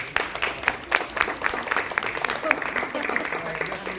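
Applause at a board of education meeting: a small audience claps in scattered, uneven bursts over roughly four seconds, moderately loud, with murmured talk underneath.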